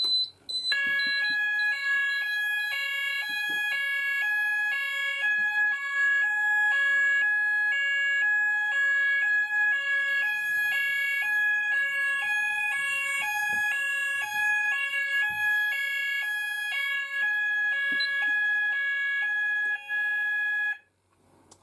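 Apollo XP95 fire alarm sounder going off during a system test, a loud, close electronic two-tone warbling alarm repeating steadily for about twenty seconds, then cutting off abruptly.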